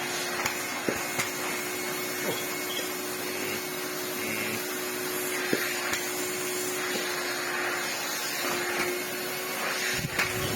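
A vacuum cleaner with a floor head running on its low power setting over carpet gives a steady, even whine and hiss, with a few faint clicks and bumps as the head moves.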